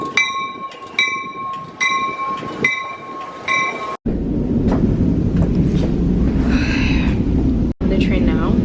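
A train rides along its rails with a steady rumble and rattle, loud and close, after a stretch of repeated bell-like chimes or signal tones, with brief cuts between segments.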